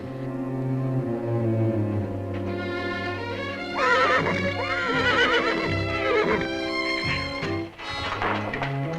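Horse neighing in a long, loud whinny that rises and trembles, heard close over a music bed, with no talk.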